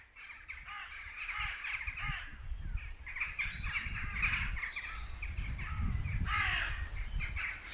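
A flock of crows caws insistently in Wombwell cemetery, loud rough calls repeating in irregular bursts and overlapping throughout, close by and steady, with no speech.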